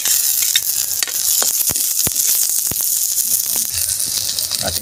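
Onion, ginger and garlic sauté in a pan of hot oil, a steady close sizzle with scattered sharp crackles and pops running throughout, no voices.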